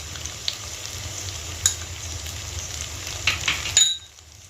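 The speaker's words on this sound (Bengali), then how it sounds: "দিয়ে ভালো করে মশলাটা নেড়ে চেড়ে নেব।" Ground spices including turmeric and Kashmiri chilli powder sizzle steadily in hot oil in a pan, with a few sharp clinks of a spoon stirring near the end, close and unaccompanied before cutting off.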